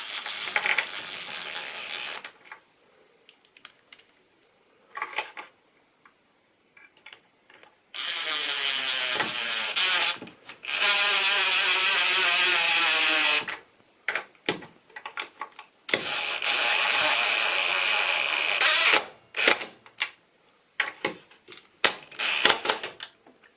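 Power driver sinking 40mm size 4 Pozidriv screws into wall plugs for a curtain pole bracket, heard as several bursts of loud whirring and ratcheting a few seconds long, with handling clicks and quiet gaps in between.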